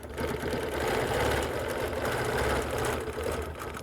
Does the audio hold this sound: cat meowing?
no